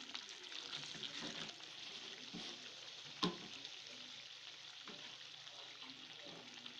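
Chicken achar gosht fries in its gravy with a soft, continuous sizzle and faint stirring scrapes, one sharp clink of a utensil partway through, fairly quiet and close with no talking.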